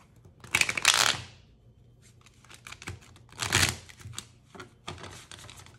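Tarot cards being shuffled by hand indoors, in several bursts of rapid riffling and flicking separated by brief pauses, close and moderately loud with faint background noise.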